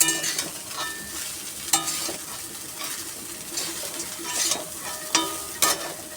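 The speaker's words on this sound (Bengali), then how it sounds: "একটু ভালো করে ভাজা ভাজা হোক" Soaked flattened rice (chira) is stirred and fried in a pan, a constant sizzle broken by repeated scraping clatters of the spatula against the metal.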